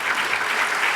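A brief burst of dense audience applause at La Rochelle film festival's Ennio Morricone music lesson, a steady wash of many hands clapping with no speech.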